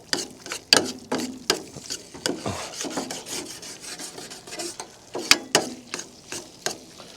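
A browning mixture scraped and stirred in a pan at a cold-weather campsite, near, repeated rasping scrapes in an uneven rhythm with sharper metallic clicks, steady and moderately loud without talk.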